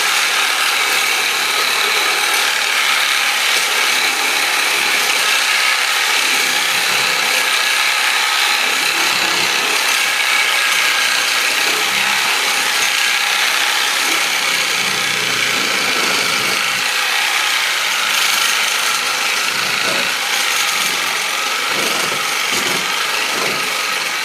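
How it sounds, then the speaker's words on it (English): A Sawzall reciprocating saw cuts through the antlers and skull of a game head, giving a steady, continuous rasping and grinding of blade on bone and antler that carries throughout at close range with no talk. "I use a sawzall, but what you want to do is go in between the eye socket and the antlers"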